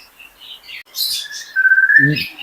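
A pair of lory birds call in a bird dealer's house: several short chirps and whistled notes, then a long rising whistle and a brief harsher squawk at the end, loud and close, with no speech.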